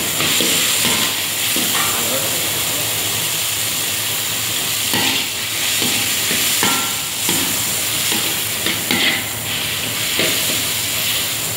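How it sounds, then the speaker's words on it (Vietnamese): Salted pork stir-fried in a pan, a steady loud sizzle and hiss with repeated scraping and clattering stirs of the spatula throughout, no talking. "Bây giờ mình xào thịt cho săn nha các bạn."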